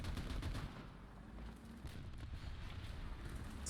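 Tank cannon and machine-gun fire in the War Thunder video game, a dense continuous rumble of distant shots and rattling bursts with steady low booms throughout, no talk.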